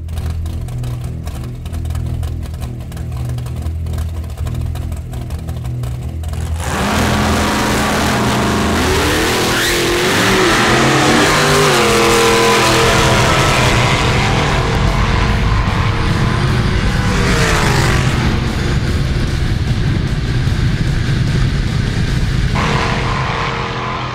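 A drag race car sits at a low, rumbling idle, then launches into a full-throttle 400-metre run. A sudden, loud, sustained engine roar follows with gear-change shifts and tyre noise, and it stays close and dominant until the end with no talk.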